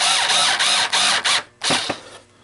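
A variable-speed power screwdriver drives screws into a Coinco 9302GX MDB coin mechanism, its motor whirring in short close bursts that rise and cut off, then a final shorter pulse as a screw seats.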